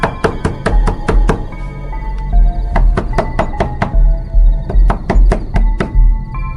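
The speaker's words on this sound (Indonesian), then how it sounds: "ada suara ketukan di tenda" Knocking on a tent comes in loud, sharp, close raps in quick irregular clusters with short pauses, over a low resonant backing.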